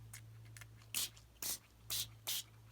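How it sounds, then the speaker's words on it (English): A finishing spray is misted onto a craft project in short bursts, four distinct hissing sprays spaced about half a second apart, close to the microphone over a low steady hum. "so and then this will be my finishing spray."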